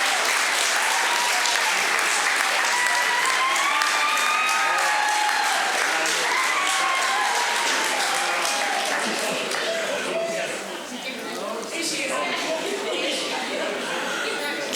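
Audience at an awards ceremony giving sustained loud applause and cheering, dense clapping with whoops and shouts rising above it, continuous for the whole stretch.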